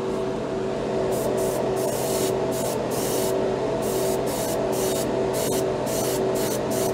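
Paint spray gun with the air pressure turned up to around 30–32, a loud continuous hiss rushing close by, broken by repeated bursts as the trigger is pulled and released in quick succession.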